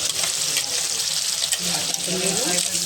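Raw chickpea paste added to frying green chickpea bhaji in a Maharashtrian-style dish, giving a continuous loud sizzle with wet stirring and scraping over it, with no voice.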